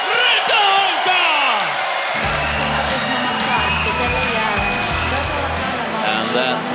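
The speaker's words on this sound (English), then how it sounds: "that thunderous applause, of course, goes to the hometown hero, Markus Rytöhonka" Thunderous crowd cheering and applause for a hometown MMA fighter from Helsinki at a cage-fight event, loud and sustained with whoops, following an announcer's voice at the start.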